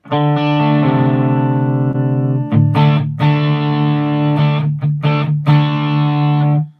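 Electric guitar through a Plexi EL84 mod amp model on a Headrush Gigboard into a real amp: crunchy, overdriven tone, sustained distorted chords ring out loud and full, with a few quick pick scrapes between strums.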